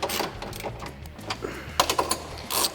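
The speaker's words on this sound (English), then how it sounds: "Take my 13 millimeter socket and my 3/8 ratchet." A 3/8 ratchet with a 13 mm socket tightens the bolts on Barricade side step bars fitted to a 2021-2023 Ford Bronco, giving a quick run of close, rapid ratcheting clicks.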